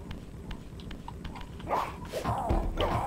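Dogs in Legacy of Kain: Soul Reaver, with soft footfalls and scuffling in the background before louder growling, snarling bursts in the second half, fairly close.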